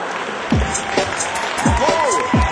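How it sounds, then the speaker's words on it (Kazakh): Studio audience at a KVN comedy stage show applauding a trick, a steady wash of clapping and crowd noise with voices calling out over it. "Шапалақ."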